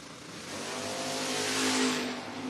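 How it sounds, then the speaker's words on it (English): Drag racing cars launch down the strip at a door-car drag race, a roaring rising engine blast that builds in loudness over a couple of seconds with no talk. "Great drag race."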